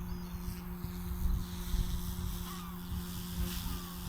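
A Goosky S2 MAX RC helicopter's rotor spins up with a steady whine and hum, heard outdoors with some wind and no talking.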